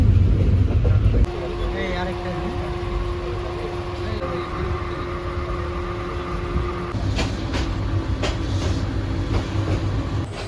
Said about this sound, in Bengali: মেঘনা নদীর উপর বিশাল রেল সেতুটি অতিক্রম করে ট্রেন